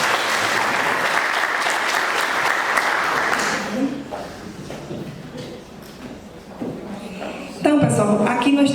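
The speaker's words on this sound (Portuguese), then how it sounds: "Já abriu uma salva de palmas." Audience applause at the closing ceremony of a university law week, loud sustained clapping for about four seconds that fades into scattered claps and murmuring voices, then a louder burst near the end.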